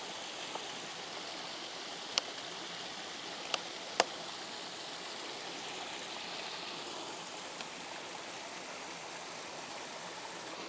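A small waterfall pouring into a pool beneath red maples in autumn, a faint steady rushing wash of water with a few sharp clicks over it.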